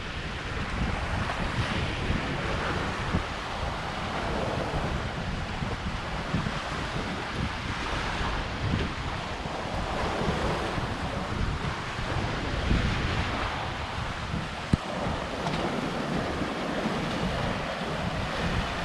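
Waves on a small, quiet beach on Koh Larn island near Pattaya, a steady wash of surf mixed with heavy wind buffeting the microphone, continuous and fairly loud throughout with no voices.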